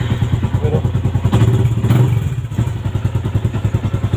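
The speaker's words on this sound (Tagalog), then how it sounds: "So yun, 1 click pa rin guys yung ating sniper." A Yamaha Sniper v.2 motorcycle, left standing for almost two months, fires up on a single press of the starter, its engine settling into a loud, steady, thumping idle with clattering pulses close by and no talk.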